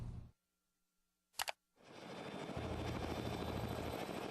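A logging helicopter carrying an external load roars loudly and steadily with a dense rotor and engine drone, heard after a short silence broken by a single sharp click.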